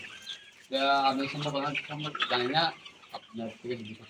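Caged layer hens on a poultry farm give close, loud bursts of clucking and squawking calls, dense at first and then breaking into short separate clucks.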